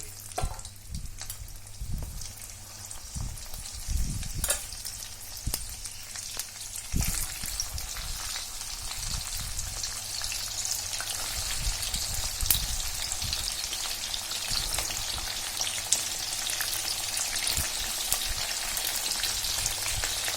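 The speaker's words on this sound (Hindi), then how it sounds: "ये भिंडी इसमें डीप फ्राई हो रही है।" Okra (bhindi) deep frying in salted hot oil for Sindhi-style bhindi masala, a steady dense crackling sizzle close up that continues throughout, with occasional sharper pops and no voices.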